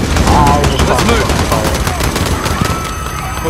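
Rapid gunfire rattles in a Modern Warfare campaign mission, dense automatic bursts layered with shouting voices and chaotic combat noise, loud and close throughout.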